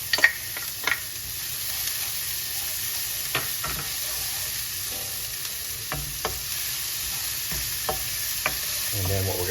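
Red pepper stir-frying with shallot in hot oil for pork fried rice, a steady loud sizzle broken by sharp scrapes and knocks of a utensil against the pan, close by, no voices.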